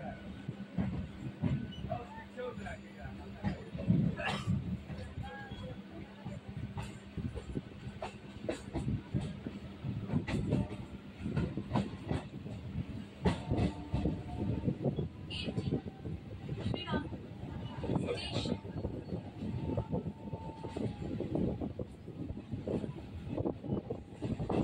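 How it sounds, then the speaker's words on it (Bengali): A train pulls into Srirampur station on the Bali to Goghat line, its low rumble and rattling carriages steady and close throughout, with scattered clanks and a few faint voices mixed in. "ট্রেন এখন শ্রীরামপুর স্টেশনে ঢুকছে।"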